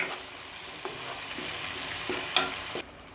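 Ginger garlic paste fries in a pan with a constant close sizzle, broken by a few stirring scrapes and a sharp clack of the spoon near the end.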